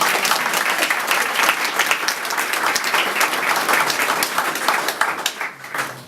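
A crowd claps loudly and steadily at a wine awards ceremony in Pouilly-Fumé, dense applause that thins and fades toward the end.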